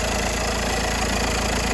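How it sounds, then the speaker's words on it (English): A VW Tiguan engine with no power and a stuck turbo idles steadily nearby, making an even, continuous mechanical hum with no change in pace and no voices. "the car engine running"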